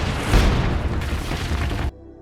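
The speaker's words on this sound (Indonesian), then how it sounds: "hingga baku tembak dan hantam pun terjadi di sana." Gunfire and explosions from a shootout in an action film: a dense, loud barrage of booms and bursts that rolls on for almost two seconds, then cuts off abruptly.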